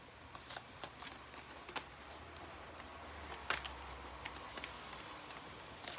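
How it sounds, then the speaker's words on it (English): A tarot-style card deck is shuffled close by in a quiet room during a card reading, with a quick series of soft riffling flicks and snaps, irregular in rhythm. "when I was shuffling this deck"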